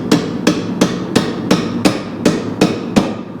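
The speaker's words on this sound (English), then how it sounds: "Let's see if this will just hammer out." A hammer strikes a car's wiper motor part nine times at a steady rhythm, each blow a loud, close metallic knock with a short ring.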